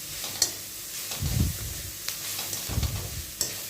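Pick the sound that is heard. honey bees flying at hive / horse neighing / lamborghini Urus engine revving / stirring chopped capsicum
stirring chopped capsicum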